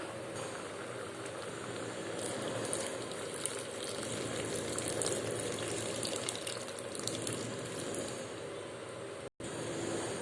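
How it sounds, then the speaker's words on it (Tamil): Tamarind water goes into a boiling brinjal kara kulambu, and the pot answers with a steady, faint bubbling and sizzling hiss, scattered small pops, and one brief dropout near the end. "இப்போ நம்ம வந்து கரைச்சி வச்சுருக்க புளி தண்ணியை வந்து நம்ம அதில் சேர்த்திடலாம்"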